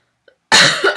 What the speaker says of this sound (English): And yes, I still have the cough.